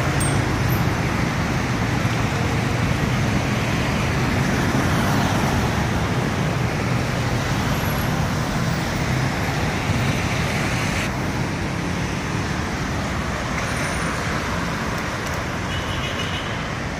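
Steady, dense car traffic fills a city street at Calle Quinta with Cuarta in Santiago de Cali, with vehicles heading toward the Avenida Colombia underpass. A continuous loud roar of passing engines and tyres carries on without pause, with faint occasional higher tones.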